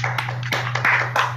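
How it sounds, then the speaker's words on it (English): Scattered hand claps from several unmuted participants on a Zoom concert call, sharp uneven taps over a steady hum, close and moderately loud. "let's give them a round of applause"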